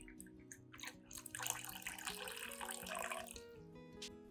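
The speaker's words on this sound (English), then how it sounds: "pour in about 500 milliliters of clean water at room temperature." Room-temperature clean water being poured into a container holding rice, a gurgling, splashing stream with a faint background tone, close and moderately quiet, swelling briefly mid-pour.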